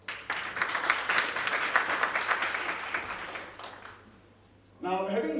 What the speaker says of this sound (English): we give her another round of applause, please